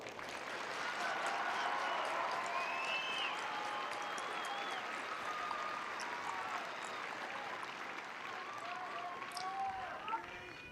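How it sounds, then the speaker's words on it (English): Broad, distant crowd applause at a US Air Force Basic Military Training graduation ceremony in January 2024, sustained clapping across a large audience with scattered voices and cheers mixed in, fairly faint overall. "I would like to ask that you give a round of applause to this dedicated team of"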